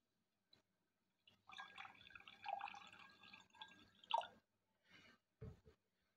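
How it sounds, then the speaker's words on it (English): Water poured from a container into a vessel holding coins, a steady trickling splash that rises and falls over several seconds before a couple of short drips and splashes, close and fairly quiet. "Now see the magic, what happens when I pour water."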